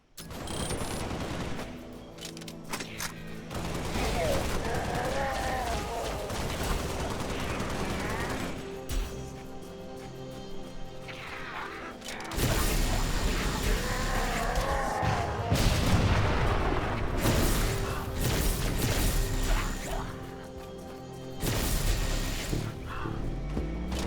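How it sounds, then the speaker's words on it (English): Heavy weapons fire pounds through a Halo: Spartan Strike battle, sustained bursts of gunfire and explosive booms layered over a droning game soundtrack, loud and continuous across long stretches. "Heavy fire incoming."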